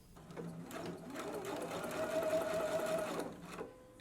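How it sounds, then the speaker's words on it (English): Domestic sewing machine basting a dress neckband at a quarter-inch seam, a close steady motor whir and needle chatter that ramps up, holds for a few seconds, then stops, with no talking. "So we're gonna baste this at 1/4 inch."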